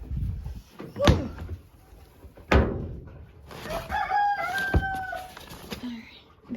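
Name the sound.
chickens and rooster crowing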